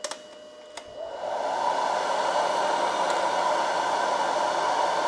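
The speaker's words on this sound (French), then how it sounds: "je vais mettre le ventilateur à fond" An electric fan runs at full power off a StorCube power station, a steady loud whooshing roar that swells up after a couple of faint clicks and then holds constant.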